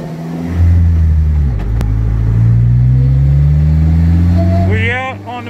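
A 2016 Polaris Slingshot accelerates on a freeway, its engine droning loudly and rising in pitch as it pulls, with a brief sharp knock and a short voice near the end.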